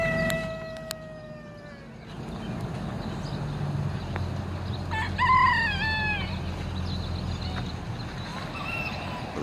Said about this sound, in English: The roosters and the chickens are complaining.